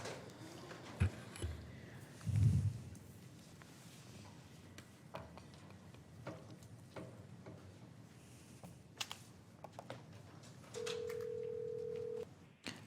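A telephone line tone sounds as a caller is transferred in during a county board of supervisors meeting: a steady held beep near the end over a faint background hum, with scattered small clicks earlier.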